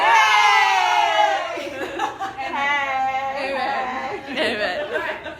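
A crowd at a retreat shouting back in unison after a speaker's call, a loud voiced burst that trails into scattered chatter, laughter and more shouts.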